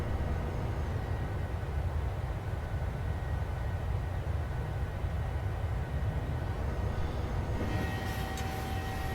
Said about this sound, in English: Just throttling back ever so slightly now on the climb out.